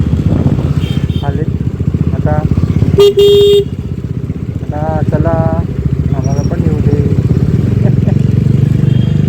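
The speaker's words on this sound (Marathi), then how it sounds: "त्या पाठीमागून तुम्हाला गाड्यांचा आवाज येत असेल." Motorcycles and other vehicles pass close by on a road out of Thane, with engine roar and a sharp horn toot partway through. A person speaks briefly over the traffic.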